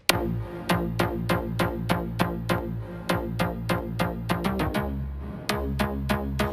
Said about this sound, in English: So this is just a sound from Phase Plant